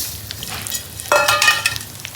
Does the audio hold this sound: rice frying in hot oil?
yes